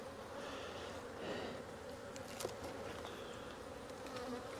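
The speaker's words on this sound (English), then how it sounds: "Bees are looking good." Honey bees buzzing steadily at an open hive during Apivar strip removal, a dense, continuous hum with a few brief louder passes close by, no talk.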